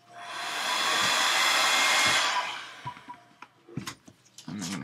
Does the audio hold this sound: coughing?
no